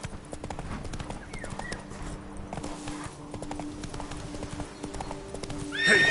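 Roach, the horse in The Witcher 3, gallops with a brisk, even clip-clop of hooves, loud and close, ending in a short whinny, with no speech.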